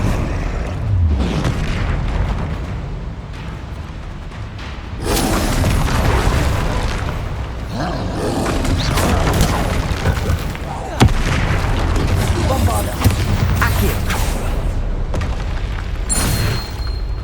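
Repeated Bombarda spell blasts in Hogwarts Legacy boom heavily over a steady rumble of combat noise, with a sharp impact near the middle and further bursts after it.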